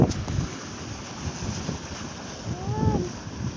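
Wind blows across a steaming boiling-water lake, a gusty rushing with microphone buffeting that swells near the start and end, and a brief faint tonal whistle late on.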